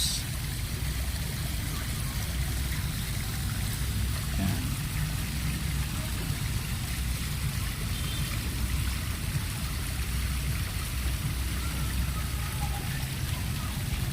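Water gushing and flowing steadily at a paraiso nature spot, a continuous broadband rushing wash that holds level throughout with no pauses.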